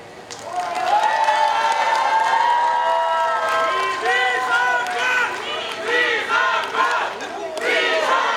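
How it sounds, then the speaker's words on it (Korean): An outdoor political campaign rally crowd greets a visiting lawmaker with sustained cheering and shouting, loud, rhythmic chanting voices rising over scattered clapping for several seconds. "지원 유세를 와주신 이탄희 의원께 큰 박수 좀 부탁드리겠습니다."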